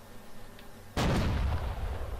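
88 mm cannon on a JagdPanzer tank destroyer firing in Ground War Tanks, one sharp, loud blast after a quiet lead-in, followed by a rumbling decay.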